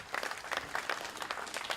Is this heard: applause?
yes